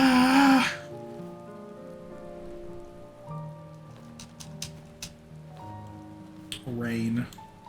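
Rain falling in the online game Final Fantasy XIV, a steady soft patter under game music, with a person talking briefly at the start and end.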